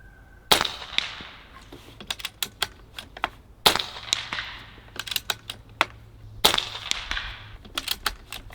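Barra 250z rifle shooting at backyard targets: three sharp, loud cracks spaced a few seconds apart, each with a short ringing tail, mixed with lighter clicks and taps in between, and no voices.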